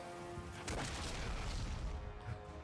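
Explosion in God of War: Ghost of Sparta on PSP, a dense broadband roaring blast that swells and rumbles continuously for a few seconds at low level, heard alone.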